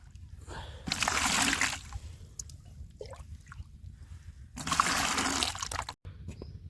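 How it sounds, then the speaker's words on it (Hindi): Water poured from a pot into a lota beside a farm well, two splashing pours about a second long each, close by, with quieter trickles and small knocks between them. "देख भाई नु लोटा तो भरना पड़ेगा अपन थोड़ा"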